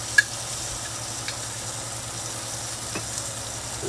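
Sauce for a braised oxtail stew sizzles steadily in a hot pan, a continuous crackling fry with a faint clink near the start and no voices.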